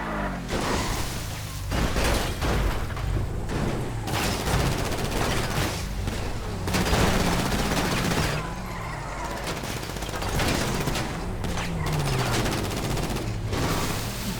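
Loud gunfire from the video game GTA rattles in sustained bursts with short gaps over engine and street noise, and a voice talks faintly underneath.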